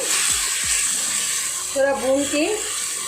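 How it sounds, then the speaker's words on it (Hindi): Chopped fenugreek leaves fry in a pan with green chillies for a potato and methi dish, giving a steady broadband sizzle throughout, with a voice briefly speaking over it near the end. "ये मेथी की सब्ज़ी हम इसमें डालेंगे। और इसको हम थोड़ा भून के"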